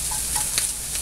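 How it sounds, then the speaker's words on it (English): Sausage sizzles and crackles in a frying pan while gravy is being made, a steady loud hiss with small pops, close and continuous. "we're well into sizzle time here."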